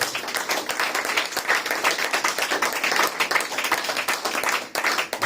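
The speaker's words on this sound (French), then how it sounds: "Acclamez pour le Seigneur." Church congregation applauding in praise of the Lord during an evangelist's service, a steady dense wash of hand claps lasting throughout, loud and close, with faint voices mixed in and no clear cheering.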